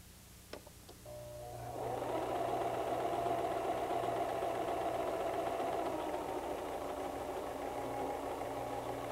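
A White 1735 sewing machine stitches: a few light clicks, then a steady, close motor whir that runs evenly to the end, with no talking.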